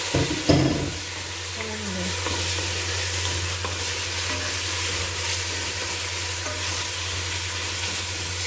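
Lamb meat dropped into a hot pan with sautéed aromatics for a beans stir-fry, an initial clatter followed by a loud, steady sizzle with faint stirring, close and continuous.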